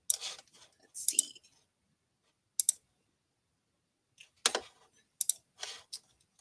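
A lit-up computer keyboard clicks in short, bright bursts of typing separated by silent gaps, close and crisp, with a few quick keystroke clusters spread across the stretch.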